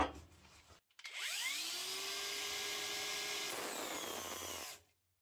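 A Parkside Performance PWSAP 20 Li-C3 cordless angle grinder runs loud and steady, its whine dipping in pitch as it bogs down under pressure, then recovering briefly before cutting off.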